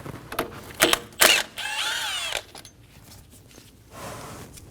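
Ratchet on 12mm nuts at the fuel rail studs of a 2008-2015 Scion xB 2.4L engine, a few short close clicking bursts followed by a longer whirring ratchet run, then quieter handling noise.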